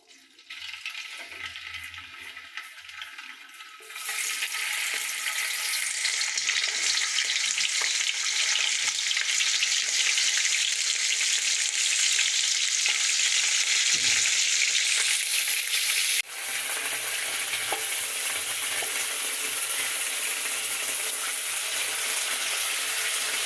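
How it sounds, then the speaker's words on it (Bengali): Marinated chicken frying in a hot pan for a morog polao recipe, a quieter sizzle at first then a loud, steady hiss that runs on continuously with a brief dip near the end. "প্যানটা গরম করে নিয়ে ম্যারিনেট করা মাংসটা ভেজে নেব"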